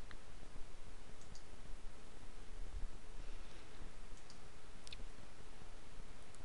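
Computer mouse clicks, a few faint sharp ticks over a steady hiss of background noise.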